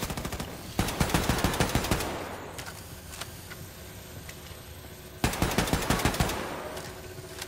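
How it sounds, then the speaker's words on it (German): Automatic weapon fire from Wolfenstein 2 in two loud rapid bursts of evenly spaced shots, separated by a quieter stretch of rumbling game ambience with faint ticks. "ich schieß dir das Bein weg"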